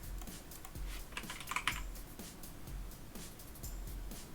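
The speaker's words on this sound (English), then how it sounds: "I'm hoping now when I type in code" Rapid, uneven keystrokes on a computer keyboard while a command is entered on Ubuntu Linux, close and steady across the whole stretch with a brief denser burst in the middle, no voices.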